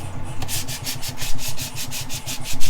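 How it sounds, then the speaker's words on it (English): A grinder works on a 671 diesel engine being readied for its first start, giving a close, steady run of gritty rasping strokes, roughly four or five per second, with no talk. "You can break your grinder in. I'll break my grinder in."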